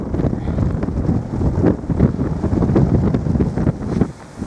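Wind gusts hard across the frozen Thunder Bay River 7 Mile Dam in Alpena, Michigan, blowing snow around in a rough, buffeting roar that batters the microphone for several seconds.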